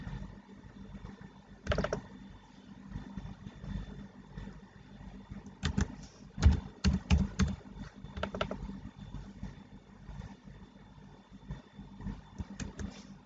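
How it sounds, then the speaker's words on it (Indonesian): Fingers type on a computer keyboard in irregular bursts of close, crisp key clicks, with brief pauses between flurries and a faint steady hum underneath. "untuk NPWP-nya kita harus ketik satu persatu ya."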